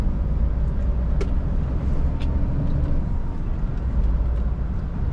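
A car accelerating along a highway toward São Paulo in late afternoon: a steady, loud engine and road roar with dense tire noise, continuous and close, with a couple of brief high squeaks.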